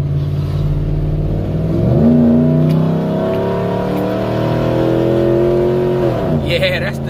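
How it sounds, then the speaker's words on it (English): Dodge car engine running close and loud, its pitch rising and falling as it is revved twice over a steady rumbling idle. "that's the Dodge"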